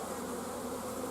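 Honeybees in a nuc box give off a steady, dense buzzing drone, close and continuous.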